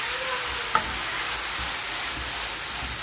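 Soy sauce chicken simmering in its sauce in a pan, giving a steady, even sizzle and bubbling throughout, with a single brief clink of a utensil near the start.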